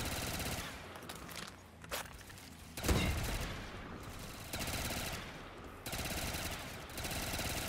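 Pack-a-Punched ACR rifle firing in a Call of Duty zombies game, rapid automatic bursts separated by short pauses, with one heavy boom partway through.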